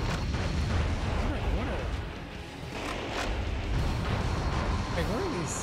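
Gunfire and explosions in the video game Metal Wolf Chaos XD, a dense continuous barrage of booms and shots with whooshing projectiles, loud and chaotic, with a voice talking over it.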